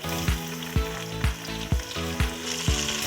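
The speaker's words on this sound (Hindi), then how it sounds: "3 अदद प्याज हमने काट लिए हैं, इसी ऑयल में फ्राई कर लेंगे" Chopped onions, three of them, frying in oil left over from browning chicken for chicken qorma, a steady loud sizzle with regular stirring scrapes roughly every half second.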